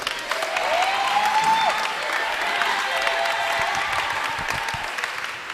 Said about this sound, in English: Can we give this young man a round of applause as well?